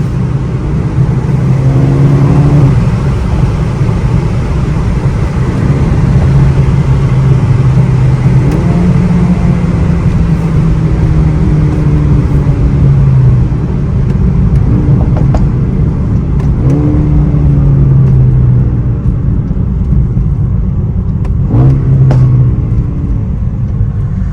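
A 2021 Mercedes-AMG A35 with a 330 hp engine drives at night, its loud steady cabin rumble rising and falling in repeated accelerations with audible gear-change sweeps.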